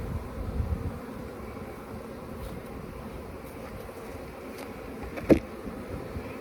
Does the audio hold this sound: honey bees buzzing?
yes